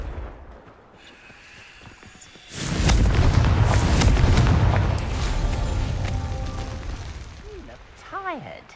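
A Confringo fire spell goes off in Hogwarts Legacy, a loud booming explosion with a sustained rumbling roar that gradually fades, then several short whooshing magical zips near the end.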